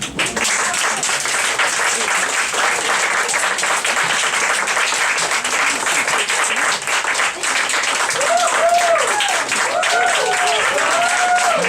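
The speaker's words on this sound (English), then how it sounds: "let's hear a warm applause for Marianne McNamara" An audience at a poetry reading in a street cafe claps warmly after a poem, a thick, continuous crowd applause that holds steady throughout, with a voice beginning to speak over it near the end.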